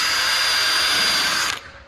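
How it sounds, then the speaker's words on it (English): A handheld power drill fitted with a sanding attachment whirs steadily while scrubbing grime off an Audi, a close, loud grinding buzz that cuts off abruptly near the end. "I just stuck it onto the drill and I literally just do that like this"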